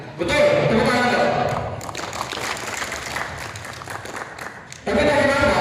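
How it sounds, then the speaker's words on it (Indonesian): An audience at a magic show in the Aceh Tamiang regional parliament breaks into a burst of applause, steady and fairly loud for about three seconds, with a performer talking before and after it. "Betul, tepuk tangan dong."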